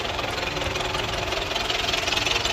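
A 2018 Massey 375 tractor with a Stanadyne injection pump runs close by, its diesel engine giving a loud, steady, knocking chug with rapid even pulses and no talking.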